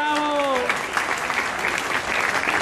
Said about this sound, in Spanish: Un aplauso para Luis Zapata Quirós.